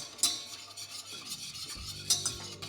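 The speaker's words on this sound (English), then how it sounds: "that butter's melted, we're just going to let it brown" Butter melted in a pan and left to brown for a bechamel, giving a soft, low sizzle with a few sharp utensil scrapes and clinks against the pan, fairly quiet and close, with no talking.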